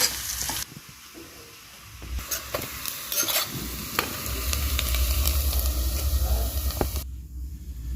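Tempering for thumbai keerai greens is sautéed in a pan, a loud crackling sizzle broken by scraping stirs and clinks. It swells to a steady hiss partway through, then cuts out abruptly, with no speech.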